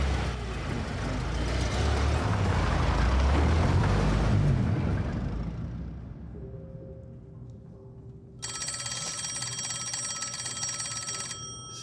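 An old-fashioned telephone bell in a 1920s Birmingham gangster drama begins ringing steadily after a loud passing vehicle rumble fades, its bright repeated ring continuing to the end.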